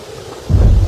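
Thunderstorm with heavy rain in a horror cartoon: a faint hiss of rain gives way to a loud, deep rumble of thunder over the pouring downpour.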